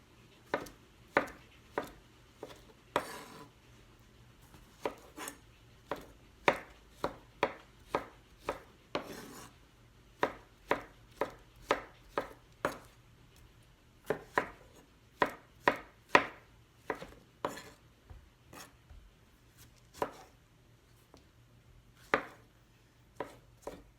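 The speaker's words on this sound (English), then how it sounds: "we are going to slice these Roma tomatoes" A knife slices through Roma tomatoes on a cutting board, a quiet, close series of sharp, evenly spaced taps and thuds that continues in quick runs with short pauses.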